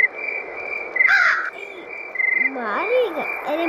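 A crow caws several times in Granny 3, harsh calls rising and falling over a steady insect-like drone of game ambience, with a voice speaking briefly over it.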